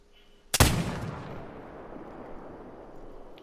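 In a hunting video game at Layton Lake, a single sharp rifle shot at a whitetail buck cracks out after a quiet moment, then a long rumbling echo trails off into the distance.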